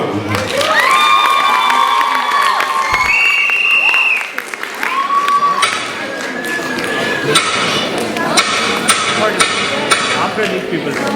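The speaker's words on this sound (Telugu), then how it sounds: "రాము అండ్ తనుశ్రీకి చప్పట్లు." An audience at an Ugadi stage show breaks into sustained loud applause with cheering and scattered shouts, continuous throughout with clapping filling the whole stretch.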